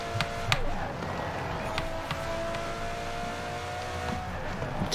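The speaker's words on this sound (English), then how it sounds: "engine noise just like roaring into Edinburgh" Lancia Delta rally car with a 900hp AWD build in Forza Horizon 4, its engine roaring steadily and loud across the whole stretch, a continuous harmonic drone with a few sharp clicks, racing around Britain on the way into Edinburgh.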